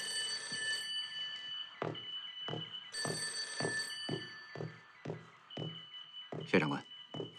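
An old-style telephone bell rings in repeated bursts at a wartime military headquarters, shrill and insistent, with short pauses between rings and some voices underneath.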